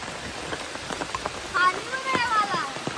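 Rain falls on a farm field in a steady, close patter of drops, with brief human voices rising over it partway through.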